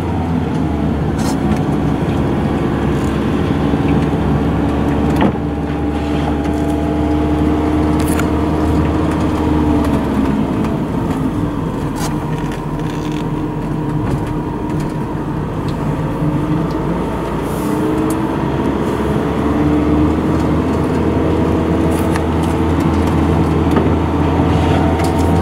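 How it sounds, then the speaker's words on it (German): A car rumbles down the Geirangerfjord serpentine road in Norway on engine braking, its low steady drone and road noise continuous and loud, heard from inside the cabin with no talking. "Aber die Motorbremse macht das gut hier."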